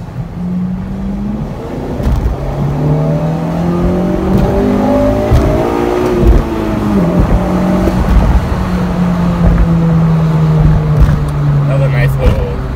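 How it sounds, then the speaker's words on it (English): A Roadrunner car makes a second-gear acceleration pull. The engine note climbs loudly and close, drops briefly at a shift, then rises again and holds strong to the end. "I'm gonna do a nice little second gear pull right here"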